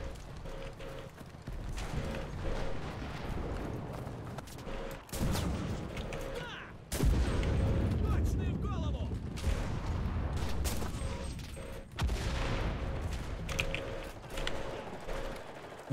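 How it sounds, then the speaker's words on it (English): Battlefield din in the Enlisted video game after an airstrike: repeated heavy explosions and bursts of gunfire thud at intervals over a constant rumbling background, some close and loud, others more distant. "It looks like my airstrike worked"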